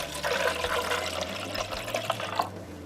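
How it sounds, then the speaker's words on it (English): White vinegar poured into the reservoir of a Ninja Coffee Bar, a steady splashing liquid stream that runs continuously at close range for the whole stretch, with no voices. "you're going to fill pour some white vinegar in there until you get to the travel mug line"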